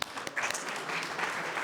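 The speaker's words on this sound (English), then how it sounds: "Give him a big PAVA round of applause." A crowd applauds a late-arriving county commissioner at a PAVA celebration of America's 250th anniversary, brisk steady clapping that is fairly soft and somewhat distant, running throughout without voices.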